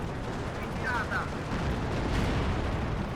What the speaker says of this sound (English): Starting to mortar us.